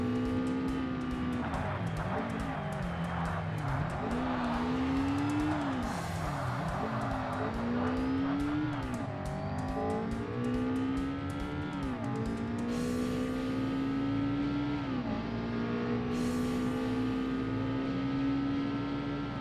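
Race car engine in the original Xbox Forza Motorsport, droning steadily throughout with rising and falling revs as the driver shifts and brakes through corners, continuous and close.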